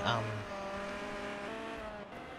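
A pack of racing cars on a circuit near a chicane roars past close by with a brief tire squeal, their engine tones holding steady and then fading.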